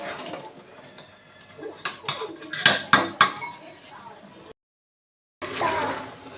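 A spoon scrapes and clinks against a pan as grated carrot halwa is stirred in heavy smoke, several sharp metallic knocks standing out before a brief silence and renewed rustling.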